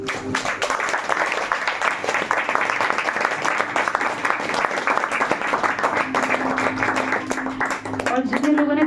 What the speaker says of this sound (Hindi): एक बार जोरदार ताली हो जाएंगे आप अपने आप के लिए